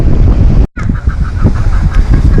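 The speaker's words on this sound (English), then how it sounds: "There's a bunch of random chickens." Chickens roaming loose on a hillside in La Palma cluck in a short run of repeated calls, close and loud against steady wind noise on the microphone, with a brief dropout partway through.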